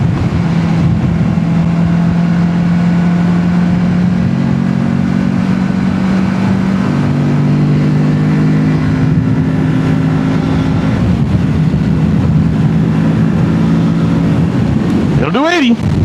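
A Kawasaki Z650 naked motorcycle accelerates hard, its engine note climbing in pitch through several gear changes, loud and close throughout with steady rushing wind noise.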